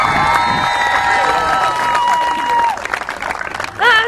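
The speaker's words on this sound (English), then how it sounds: "let's give one more round of applause for our 2015 senior left fielder" A crowd at a college softball senior day ceremony applauds and cheers loudly for a senior left fielder, with dense clapping, scattered shouts and whistles throughout. A brief voice rises near the end.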